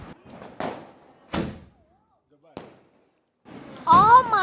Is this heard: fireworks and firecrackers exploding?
yes